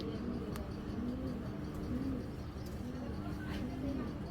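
Low, repeated cooing from a racing pigeon, a steady breeder bird, rolling in soft rhythmic phrases close by over a continuous background hum.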